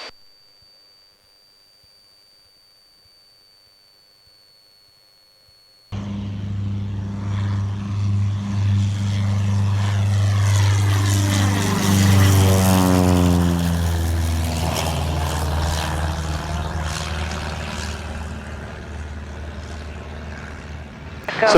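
A Cessna 177B Cardinal propeller airplane drones loudly in flight after a few seconds of near silence with a faint tone, its engine and prop roar shifting pitch as power is pulled back, steady and close throughout.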